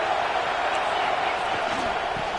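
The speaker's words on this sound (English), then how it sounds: "This crowd trying to make life miserable for this offense." A steady stadium crowd roar in a college football video game hums beneath a commentator's voice, a constant wash of noise with no distinct peaks.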